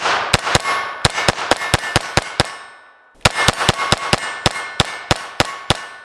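Sig P322 pistol rounds striking steel targets, a rapid string of sharp metallic clangs with ringing decay, a pause, then another quick string of ringing hits.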